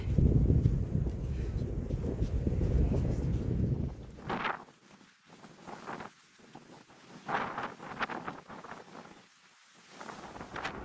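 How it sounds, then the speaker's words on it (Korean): Strong wind buffets the microphone on a mountain summit in Korea's Taebaek range, a heavy low rumble for the first few seconds, then weaker gusts that rise and fall. "더 불어라 바람아 더 불어라 상고대 피게"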